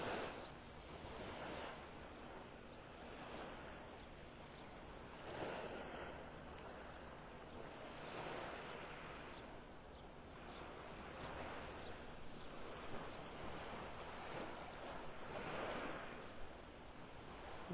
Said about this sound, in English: Nothing like being at the beach early in the morning.